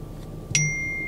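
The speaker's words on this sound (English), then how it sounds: "Somebody blowing your phone up." A single bright notification ding rings out from a phone, ringing on with a sustained tone over quiet room ambience.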